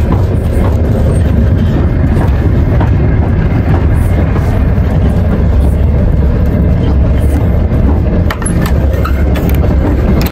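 Loud, steady rumble and rattle of a passenger train carriage rolling on rails, heard from inside, continuous throughout with no talk on top.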